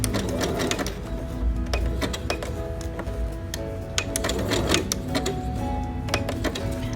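A sewing machine running steadily while zigzag stitching around the edge of a fabric applique, a continuous close mechanical whir with rapid ticking needle strokes throughout.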